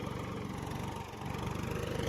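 A computer-controlled land leveling machine runs in a farm field, its engine holding a steady, even mid-pitched drone with a slight dip midway before resuming.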